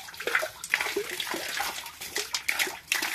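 Water splashing and churning inside a deep treasure-hunting dig hole, flooded at around 11 to 12 feet, heard as continuous sloshing and trickling with irregular surges, fairly close and alone.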